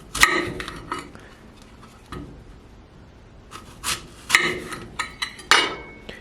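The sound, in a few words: knife cutting an apple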